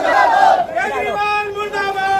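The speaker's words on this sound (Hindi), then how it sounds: "लगातार नारे केजरीवाल मुर्दाबाद के लगा रहे हैं।" A crowd of protesters in black clothes chants slogans outdoors, loud massed voices rising and falling in a rhythmic call close by.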